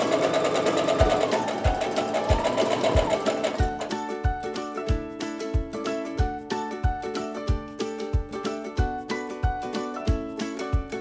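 A sewing machine stitches seams on a quilt block, starting with a whirring run and then settling into a steady, rapid series of mechanical thumps, close and alone.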